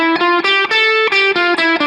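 An overdriven electric guitar plays an A Aeolian minor scale as about eight distinct, evenly spaced picked notes that step upward in quick succession, loud and close with no talking.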